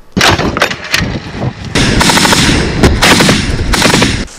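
Russian heavy machine gun crew fires during a battle around Vuhledar, loud close bursts of rapid shots with sharp cracks and echoing booms, alone without talk.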